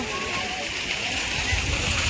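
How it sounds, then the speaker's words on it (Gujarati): Water fountains splash continuously at Bor Talav lake in Bhavnagar, a steady rushing spray heard from nearby. "પાણીના ફુવારા સરસ મજાના છે મિત્રો."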